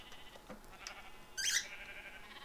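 Minecraft sheep bleating in the video game, a short nasal bleat rising briefly out of a quiet background, with a few faint blips around it.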